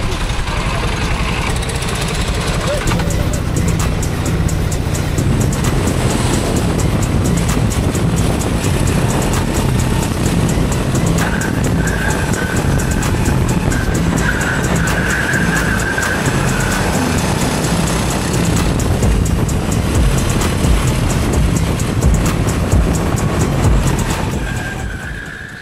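An underpowered racing kart engine drones continuously at full throttle on track during a 25-hour endurance race in Portugal. The loud, steady roar carries wind rush throughout and fades slightly at the end.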